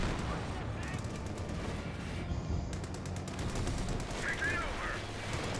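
Machine gun fire from Company of Heroes 2 battle, a dense continuous rattle of rapid shots mixed with other gunfire throughout, fairly quiet and steady with a voice talking over it.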